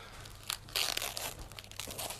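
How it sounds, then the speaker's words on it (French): Bubble wrap and heavy tape crinkle and tear as a package is unwrapped, with close, irregular crackling and rustling bursts and no talk. "on a dans mon petit papier bulle, tout bien, tout joli. Pareil, avec plein de scotch"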